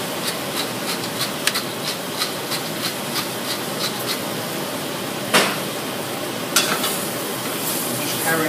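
Vegetables with washed spinach sweat gently in a pan for a vegetable lasagne, giving a steady soft sizzle with light stirring scrapes and a couple of sharper knocks, close up and with no talking.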